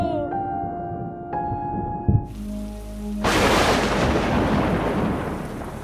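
A Kalbaishakhi thunderstorm in a Bengali cartoon: sustained musical tones and a low rumble give way to a sudden loud crash, then a dense, heavy downpour hisses steadily to the end.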